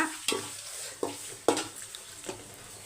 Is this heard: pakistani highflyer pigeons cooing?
no